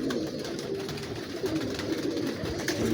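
Several pigeons kept at a breeding setup give a low, rolling coo that carries on without a break, mixed with faint shuffling and background noise in the loft.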